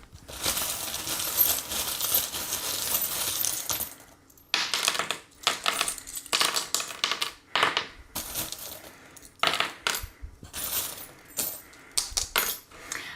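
Divination charms rattled together and then dropped onto a surface: a long shaken jingle of small metal pieces, followed by a run of sharp clinks and scattered clattering bursts, close and fairly loud.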